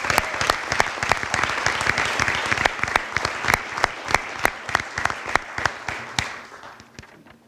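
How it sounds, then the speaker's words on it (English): An audience at a high school spring sports awards ceremony applauds, the steady clapping studded with sharp individual claps, then thinning and fading out near the end with no talking. "a big round of applause for Michael Carls from Festus"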